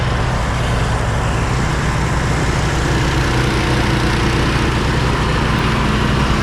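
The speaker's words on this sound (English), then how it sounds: "the reason I think that engine is bogging down is because this area, there's a lot of weed grass in it" An ATV engine strains and bogs down while pulling a 4ft flail mower through thick weedy grass, giving a loud, continuous, close-up mechanical roar that stays steady throughout with no voices.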